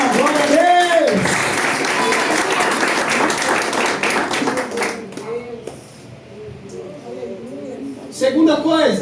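A church congregation applauds during a Communion worship service, a dense steady wash of clapping lasting about five seconds before thinning out beneath a preacher's voice and scattered shouts of praise.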